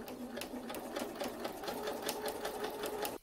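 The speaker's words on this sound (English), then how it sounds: "And now we're going to the machine. So always I like to start sewing" A sewing machine runs continuously at a steady, fast rhythm while sewing the side of a fabric planner cover, close and clear with no talking.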